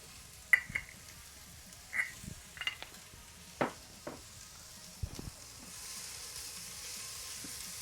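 Vegetables sautéing with salt in a pan for birria tacos, faint sizzle with several short clinks and scrapes of stirring scattered through, then a soft steady hiss building toward the end, quiet and close without talking.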